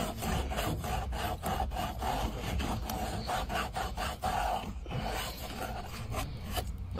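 Dry, continuous rasping of wood being rubbed smooth by hand without sandpaper, a steady scratchy friction with repeated strokes, fairly close and loud throughout, no talk.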